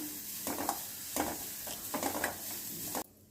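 Grated coconut and sugar are stirred together for a dry fruits pancake filling: a few soft scraping strokes with faint sizzle, then an abrupt stop.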